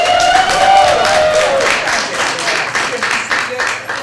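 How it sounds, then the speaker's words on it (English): Audience applause at a Fairmount Heights council meeting: a loud burst of clapping from a room full of people, fading gradually over about four seconds with faint voices mixed in. "gonna give him some applause?"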